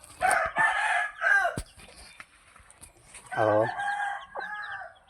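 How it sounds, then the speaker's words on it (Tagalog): Chickens are fed in a backyard coop, with a rooster crowing nearby and hens clucking in short bursts, mixed with a person's brief voice. "Habang nagpapakain ng manok, nakaupo."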